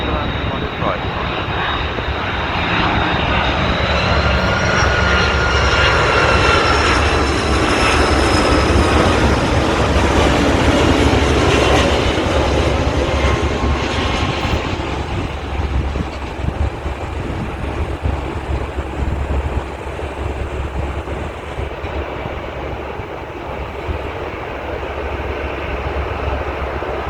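A heavy Qantas airliner lands on runway 16R at Sydney Airport, its engines roaring loud and steady before fading into a lower rumble, with air traffic control radio voices heard over it.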